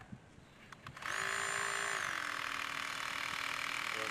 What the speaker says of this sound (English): We've got the auger in the drill.